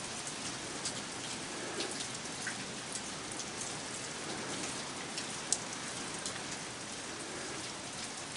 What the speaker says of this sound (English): Yes, it is pouring down the pouring rain.